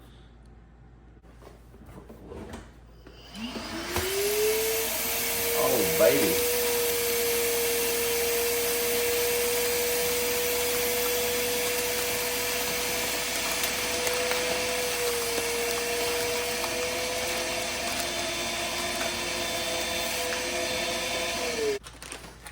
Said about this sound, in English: I wonder if I could just hook a vacuum up to that